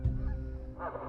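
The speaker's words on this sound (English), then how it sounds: "I would never have thought to use a megaphone and recorded goose calls to lure them closer." Goose honks played from a recording through a megaphone to lure wild geese during a survival hunt, a loud blaring call over a steady low outdoor rumble, rising again near the end.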